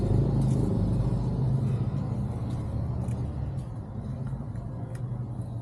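An auto rickshaw drives along a city road, giving a steady, moderately loud engine rumble throughout, with traffic noise around it.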